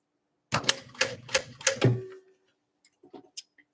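A fast sewing machine stitches a zipper onto a fabric tote in a rapid burst of needle strikes, then stops, leaving a few faint clicks and taps.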